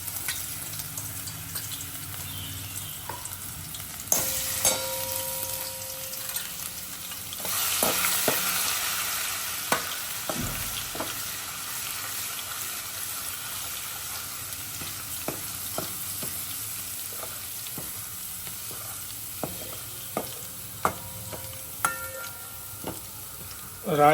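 Ajwain tempering sizzles in hot oil for a gathiya curry, a steady frying hiss lasting throughout, with a louder burst partway through and frequent clinks and taps of a stirring spoon on the pan.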